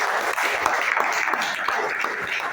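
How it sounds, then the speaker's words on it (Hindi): A seated audience at a marketing seminar claps loudly together, a dense, even roar of hand claps lasting a couple of seconds with no break. "सही, जोरदार ताली।"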